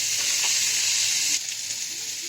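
Pre-fried potatoes sizzle loudly in a pan of papaya and spices. The close, steady frying noise drops to a quieter sizzle partway through as stirring goes on, with no voices.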